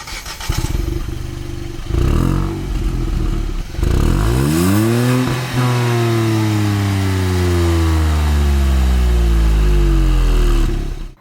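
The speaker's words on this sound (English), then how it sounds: "These dual exhausts sound really very nice when you start the car and rev it." A three-cylinder N-Line car with dual exhausts fires up and is revved hard several times, the engine note climbing and falling in loud, close sweeps before settling into a steady idle, with no voices.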